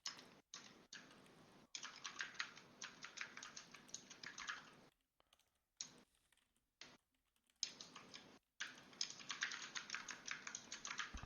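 Close, steady typing on a computer keyboard during a programming session, with bursts of rapid keystrokes separated by short pauses and near-silent gaps, no talk.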